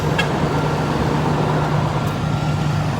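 A bus drives from the Belize border toward Belize City, with a steady engine drone and road rumble heard from inside, unbroken and fairly loud.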